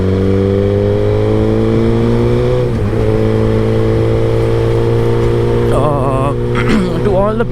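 A Honda CBR 600 sports bike rides along Lyari Expressway, its engine a loud, steady drone whose pitch shifts as the rider changes gears, with wind noise and a short burst of other sound near the end.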